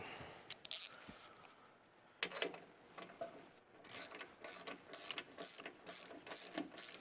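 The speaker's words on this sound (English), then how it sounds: "You're going to need a 10mm deep well socket." A ratchet fitted with a 10mm deep well socket works on a stud in a car, giving a few scattered clicks and then a rapid series of short, crisp ratcheting bursts, close and quiet.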